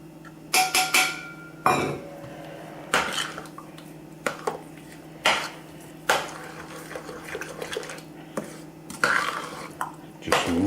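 A spoon clanks and scrapes around a pot of tomato marinara sauce as seasonings are mixed in, in bursts of metallic knocks and stirring with short pauses between.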